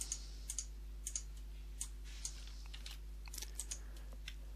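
Light, irregular clicks of keys on a computer keyboard as a username is typed, a dozen or so quiet taps in uneven bursts over a low electrical hum, no voices.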